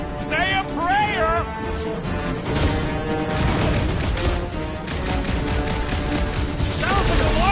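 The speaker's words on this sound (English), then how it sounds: "Sounds like a lot of fork and gunfire!" Video game gunfire comes as dense, continuous bursts and crashes, loud and close, with a few brief synthetic chirps and whoops over the top.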